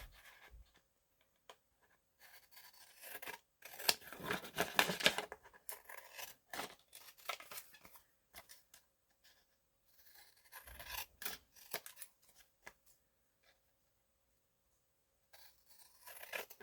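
Large scissors rasp and snip through stiff card in uneven bursts, with quiet pauses between the cuts, heard up close.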